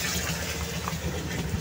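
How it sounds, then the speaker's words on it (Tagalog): A Eureka washing machine fills with water, a steady broadband gushing rush with a low rumble underneath, continuous and fairly loud throughout, no voices. "nagkakarga na siya ng tubig"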